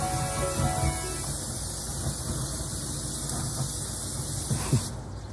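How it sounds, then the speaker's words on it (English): Cooking spray is sprayed onto a grill where chicken will go, a steady close hiss lasting about five seconds before it cuts off, with faint clatter underneath. "grab your cooking spray and just spray the grill where you're gonna put the chicken"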